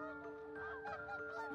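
Geese honking in the city-builder game Settlement Survival, a steady stream of overlapping honks and calls over a continuous droning game backdrop.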